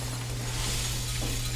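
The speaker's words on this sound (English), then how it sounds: "The glass is breaking." Glass shatters in the Portal 2 video game, a continuous bright, noisy crackle that fills the moment at a steady loud level with a low hum underneath and no voices.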